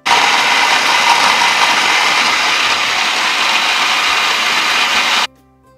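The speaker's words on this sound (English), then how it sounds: "Cover, grind on low speed for 2 minutes." A food processor grinds pistachios and basil into a vegan pesto on low speed. The motor whirs loudly and evenly without speech, then cuts off abruptly near the end.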